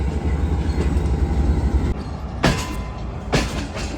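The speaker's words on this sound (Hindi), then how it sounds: "ये हमारी ट्रेन फाइनली प्लेटफॉर्म पर पहुंच चुकी है" The Shah Hussain Express rolls slowly into a station platform, a steady low rumble of rail cars with a couple of sharp hissing or squealing bursts close by.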